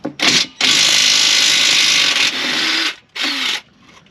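A power tool, likely an impact gun, spins out bolts on a Jeep TJ transmission in several loud close bursts, one long continuous run followed by shorter ones with brief pauses between.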